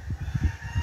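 Fighting roosters kept in pens at a cockfighting breeder's yard give low, throaty honking calls in quick bursts, close and fairly loud, with no talk over them.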